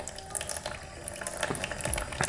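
Water is poured into a baby bearded dragon's new enclosure, making a soft, continuous splashing and trickling close by with small bubbling bursts and no voices.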